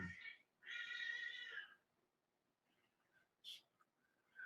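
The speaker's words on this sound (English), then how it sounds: "Some cats outside fighting." Cats fighting outdoors: a drawn-out yowling caterwaul, then quieter intermittent cries and a sharp squeal, heard at a distance and faint.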